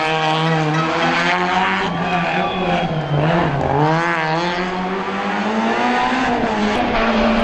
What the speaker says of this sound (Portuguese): Este é o Citroën Saxo Cup do Paulo Menezes, que vai terminar a secção